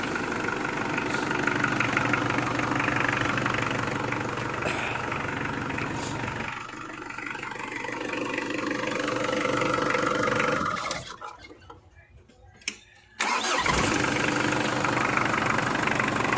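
Mitsubishi Spacegear engine, newly running after a blown fuse was replaced, idling steadily at close range with a loud, even rumble, then briefly dropping almost silent before cutting back in at full strength.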